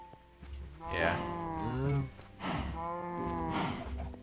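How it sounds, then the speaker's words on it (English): Minecraft cows mooing in a video game, several drawn-out moos in sequence, close and clear over a faint background. "I got a lot of cows there that I can't really do anything with"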